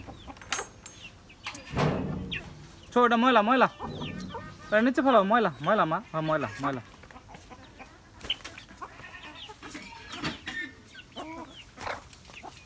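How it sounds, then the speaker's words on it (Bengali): Chickens cluck and squawk in several bursts while eating scattered feed, close by, with children talking over and between the calls. "মুরগি খাবার খেতেছে"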